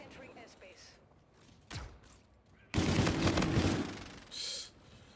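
LMG Auger machine gun fires in Infinite Warfare, a single thump followed by a loud, dense burst of rapid automatic shots lasting over a second, then a brief tail of shots. Voices talk alongside it.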